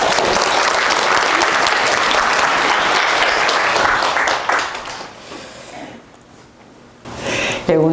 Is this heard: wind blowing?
no